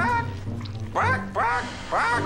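A person imitates a hen with three rising, nasal clucking squawks in quick succession, loud and close.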